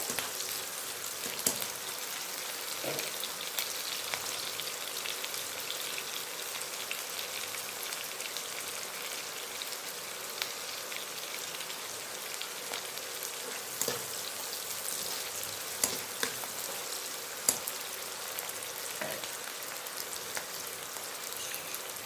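Sliced onions stirred in a frying pan for cauliflower manchurian gravy give a steady, close hiss of frying, with scattered light scrapes and taps from the stirring; no one speaks.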